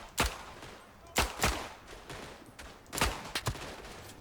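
Pistol shots in the World War I shooter game Verdun, four or five sharp cracks in two-shot groups, each with a short reverberant tail, moderately loud with no voice over them.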